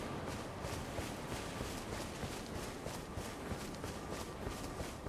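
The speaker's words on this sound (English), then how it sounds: "We can ride our horse back in here." Horse hoofbeats from Elden Ring, a steady run of soft, rapid footfalls under a constant noisy wash, without speech.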